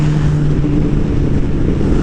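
A Kawasaki ZX10R motorcycle on a dyno, a loud close engine roar with a steady low hum and no clear separate braking or shift events over two seconds.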